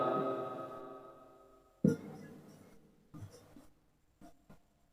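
Marker or chalk writing on a board during a lecture on vectors and basic math, heard as a long scratchy stroke followed by several short separate strokes with pauses between them, fairly quiet and close, with no talking.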